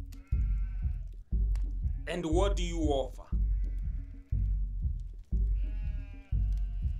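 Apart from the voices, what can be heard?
goat bleating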